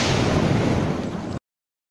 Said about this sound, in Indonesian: agar tidak terkena efek dari ledakan mercon tersebut